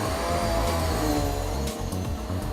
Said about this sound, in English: One of the most important places to vacuum is under the bed.